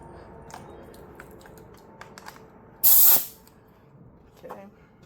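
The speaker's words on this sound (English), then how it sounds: "Put our air hose in." A compressed air hose in a workshop lets out one loud, sharp hiss of spraying air lasting about half a second, set against a quiet background with faint scattered clicks.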